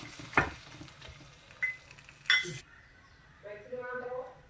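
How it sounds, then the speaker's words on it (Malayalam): Hot fried mustard-seed tempering is poured into simmering parrot fish curry, giving one brief, quiet sizzling burst between faint clinks, followed by soft talking. "ഈ തിളച്ച് നല്ലപോലെ വെന്ത് വന്ന മീനിലേക്ക് ഈ കടുക് വറുത്തത് ഈറ്റി കൊടുക്കുക"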